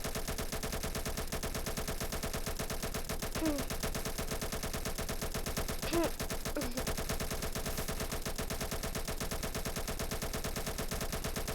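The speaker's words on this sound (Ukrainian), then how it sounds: "Все, стреляем, стреляем, стреляем." Automatic gunfire in a Roblox Japanese-American war game, a steady dense rattle of rapid shots running throughout at even loudness with a few slightly louder bursts.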